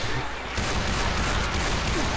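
A player's gun firing in Left 4 Dead 2, a dense, loud burst of shots that fills the whole stretch with steady noise.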